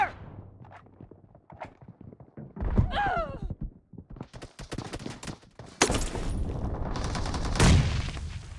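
Gunfire in a team deathmatch mobile shooter: scattered single shots and thuds, then sustained loud bursts of automatic fire in the second half, with game sound effects and some voice activity between.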